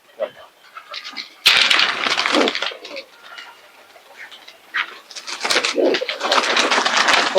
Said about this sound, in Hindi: छोटा सा कबूतर है ये